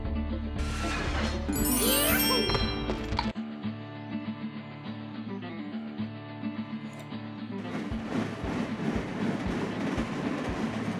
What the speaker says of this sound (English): We'll just have to wait for the green train to come in to the station.